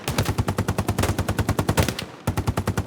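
Rapid automatic suppressive gunfire in the video game Hell Let Loose, a loud, close burst of evenly spaced shots that breaks off briefly and then resumes, with no talking.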